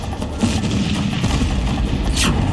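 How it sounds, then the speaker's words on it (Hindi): Explosions from Iranian missile strikes on Israel: dense, continuous rumbling booms and crackling blasts fill the clip, loud and sustained, with a sharp higher burst near the end and no speech. "ईरान ने इजरायल पर मिसाइलों की बौछार कर दी है।"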